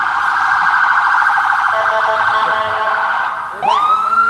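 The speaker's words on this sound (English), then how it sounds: "When the ambulance chimed in." An ambulance siren wails loud and close in Buffalo, New York, holding a steady tone before sweeping sharply upward near the end, drowning out everything else with no speech.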